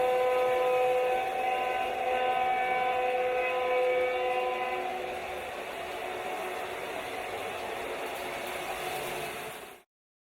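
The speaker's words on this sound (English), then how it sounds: "Everyone loves that clickety-clack coming down" A Lionel model train runs on a family-built home layout with a steady metallic rolling rumble and tonal whine, loud and continuous, with no talking, easing slightly midway before cutting off at the end.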